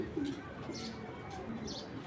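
Soft pigeon cooing comes from birds kept for sale, low and faint against a murmuring background, with a couple of brief calls.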